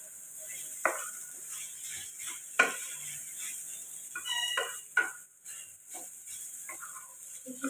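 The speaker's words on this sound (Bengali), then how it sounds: "এবার গ্যাসের ফ্লেমটা একদম কমিয়ে দিয়ে এটাকে নাড়তে হবে কিছুক্ষণ।" Vegetables and tomatoes for khichdi stirred in a pan over a low flame: soft, intermittent scrapes and clinks of a spoon against the pan with a faint, steady sizzle beneath, no talking.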